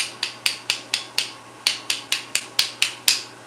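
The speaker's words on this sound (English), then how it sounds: "I'm going to give him a wood clap." Sharp wooden clacks from a hand-built ash mallet session, about a dozen crisp knocks in a steady, slightly uneven rhythm, close and clear over a faint steady hum, with no talking.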